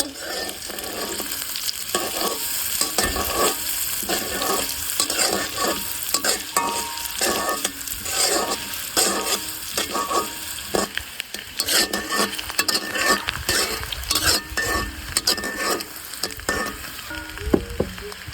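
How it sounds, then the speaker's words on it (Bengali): Chopped onion frying in oil left over from frying eggs, stirred steadily with a utensil; a continuous close sizzle with repeated rhythmic scraping strokes throughout, no talking. "ডিম ভাজা তেলে পেঁয়াজ কুচি দিয়ে দিচ্ছি"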